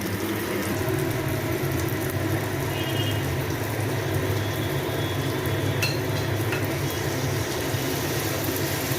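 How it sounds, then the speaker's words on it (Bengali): Mutton is added to hot oil and fries with a dense, steady sizzle and hiss that stays loud and even throughout, with a few faint clinks on top and no voices. "চারিদিক থেকে আস্তে আস্তে তেলটা ছাড়ছে, এবার আমরা মাংসটা দিয়ে দেবো এর মধ্যে।"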